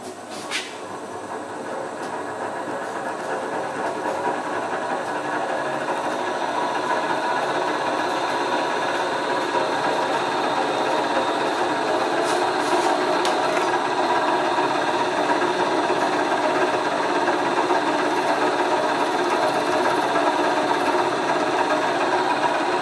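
A steady mechanical whir of a drill's electric motor running continuously, with dense, even noise that slowly builds and holds throughout.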